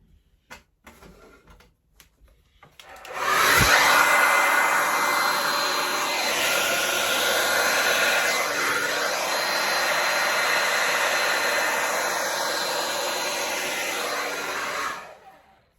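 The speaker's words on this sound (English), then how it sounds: "Then get the hair dryer." A hair dryer blows across fluid acrylic Dutch pour paint, switching on after a few soft clicks and running as a loud, steady close whoosh for about twelve seconds before cutting off.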